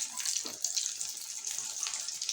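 Potato kebab tikkis frying in a pan give off a soft, steady hiss with faint crackles, quiet and continuous throughout.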